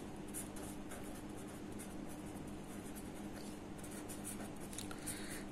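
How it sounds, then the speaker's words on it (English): A pen scratches out a heading for a school science lesson on properties of acids, soft continuous strokes with short pauses, faint and close, with no talking. "Now let me write the heading first."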